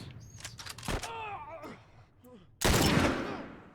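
A sniper rifle in The Last of Us fires one sudden loud, close blast that decays in a long echoing tail, after a stretch of shorter thumps, groaning cries and scuffling sounds.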